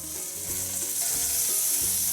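Steak meat fries in a hot pan with a bright, continuous sizzle, loud and close, with a low background hum underneath.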